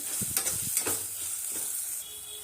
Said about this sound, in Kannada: ಒಂದು ಕಾಲು ಟೀ ಸ್ಪೂನ್ ಅರಿಶಿನ ಒಂದು ನಿಮಿಷ ಚೆನ್ನಾಗಿ ಹುರ್ಕೊಳ್ಳೋಣ